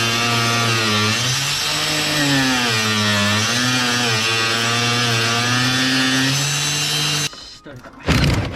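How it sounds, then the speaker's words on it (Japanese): An angle grinder cuts through metal on a wrecked amphibious vehicle found in a snow-crushed barn, giving a loud, steady high whine with wavering pitch for about seven seconds before it stops abruptly, followed by brief clattering. "結局ね、グラインダーでやっぱ切り落とすのが早い。"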